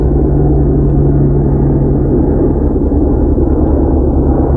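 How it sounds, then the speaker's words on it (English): A tour helicopter flies overhead above wilderness on a clear day, giving a steady, loud, continuous low rumble with a droning hum that holds for the whole stretch, with no voices. "It's a helicopter, actually."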